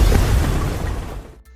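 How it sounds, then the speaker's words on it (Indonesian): Building explosion in a film, a loud, deep, rumbling blast that fills the opening second and then decays quickly into quiet. "Jia berusaha bangkit dan membawa Lin keluar dari tempat itu, dan gedung itu pun mulai meledak."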